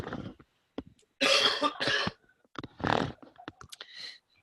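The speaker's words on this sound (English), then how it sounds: "Excuse me, I need to cough." Several harsh coughs in separate bursts, close and loud, with quiet pauses and light clicking between them.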